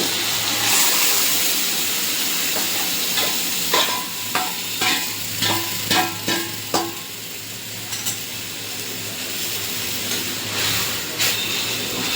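Jute greens fry with prawns in a pan, a steady loud sizzle broken by a series of rhythmic scraping stirs mid-clip, with soft hissing steam throughout.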